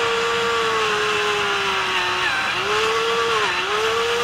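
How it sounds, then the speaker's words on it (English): A power drill bores through masonite board with a continuous high whine and grinding, the motor pitch dipping briefly twice under load, loud and close with no speech. "drill until you see chips of wood start coming up out of the hole"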